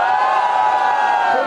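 A crowd cheers loudly and steadily for a verse at a Brazilian rap battle, a dense sustained roar with whoops carrying through the whole short burst.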